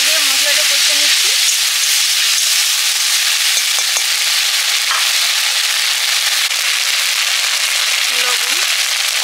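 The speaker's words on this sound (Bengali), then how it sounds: "জল দিয়ে মশলাটা কষে নিচ্ছি" Spice paste of cumin, ginger and chilli frying with added water in a pan gives a loud, steady sizzle and hiss that runs the whole time, with a brief clatter near the start and end.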